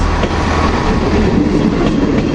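British Rail Class 158 diesel multiple unit of Transport for Wales passing near Oxford Road Station in Manchester, a steady loud rolling rumble with faint wheel clatter, close by and continuous, with no talking.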